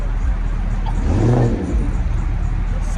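At a car meet, a car pulls up and revs once, the engine note swelling loudly then falling back over a steady background of idling engines and some talk.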